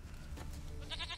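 In The Witcher III, a goat bleats faintly in short wavering calls over a low steady background hum, with the clearest bleat near the end.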